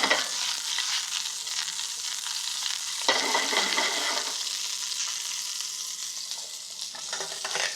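Small tapas sizzle and blister in a very hot pan, a steady loud frying hiss broken by rattling surges each time the pan is tossed.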